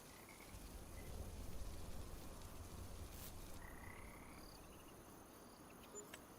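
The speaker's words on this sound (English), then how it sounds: "Oh, they have sound with them too. That's pretty cool. Like frogs and stuff." Frogs croak steadily in a Farming Simulator 25 game landscape, a dense chorus mixed with cricket-like chirps, faint and continuous across the whole stretch with no talk over it.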